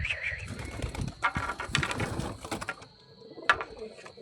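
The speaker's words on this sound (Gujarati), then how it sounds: "જોઈ રહ્યા છો કબૂતર આપણા" Pigeons coo and flutter close by in a small loft or coop, soft repeated calls mixed with scattered clicks and mechanical rattles, with occasional brief voices in the background.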